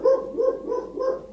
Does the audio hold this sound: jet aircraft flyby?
no